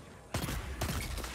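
Hand cannon gunfire from Destiny 2: two sharp, loud shots spaced about half a second apart, each followed by a dense crackling tail, with no talking.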